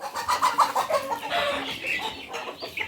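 A market-bought chicken clucks repeatedly in a rapid, uneven series of close, fairly loud calls, with no talk over it.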